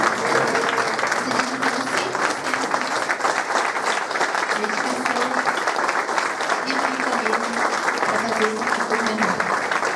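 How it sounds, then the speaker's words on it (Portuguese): A standing ovation at a hospital event on organ donation, with a crowd clapping loudly and continuously throughout while a voice carries on talking over the applause. "E eu queria que vocês fizessem uma salva de palmas em pé pro Rômulo"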